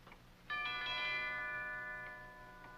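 A single doorbell chime rings once at close range in a quiet room. Its bright tone sounds for about two seconds and then fades away.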